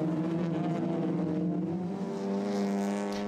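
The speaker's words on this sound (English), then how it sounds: "regular WTCR contender Norbert Mikulic, driving a Hyundai prepared by his own Mira team, overtook Mikel Azcona for third." TCR touring race cars, including a Mira team Hyundai and a West Coast Racing Volkswagen Golf, race past with loud, sustained, harmonic engine drone, pitch climbing steadily as revs build, no voices.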